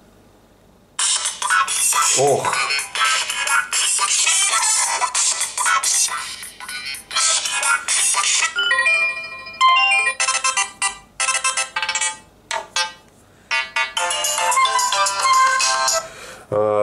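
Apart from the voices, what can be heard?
ringtone playing on Oukitel K4000 smartphone speaker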